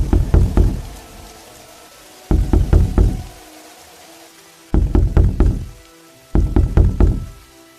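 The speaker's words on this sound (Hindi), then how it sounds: "जैसे तैसे वे तीनों नारायण के घर पहुंचते हैं और नारायण के घर का दरवाजा खटखटाते हैं।" Knocking on a house door at night during heavy rain: four separate bursts of rapid, loud, close knocks, each a quick cluster of raps, with a steady rain hiss underneath and no talking.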